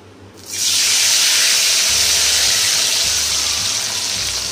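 Potato peels fry in hot oil with a loud, steady sizzle that bursts in abruptly after a brief quiet moment and keeps hissing to the end.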